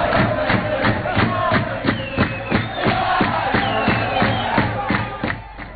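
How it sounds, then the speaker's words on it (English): Football fans chant and cheer in unison at the National Stadium in Addis Ababa, a dense roaring crowd with steady rhythmic claps and shouts throughout. "their fans showed just what it means to cheer their team whether they are winning or losing."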